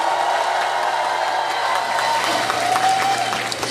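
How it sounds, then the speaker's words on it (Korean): A festival crowd at the Gangjin Celadon Festival applauds the dancers, a steady dense clapping sustained throughout, with crowd noise mixed in. "저와 오늘도 여러분들을 즐겁게 해줄 댄서분들께 박수 한번 부탁드리겠습니다"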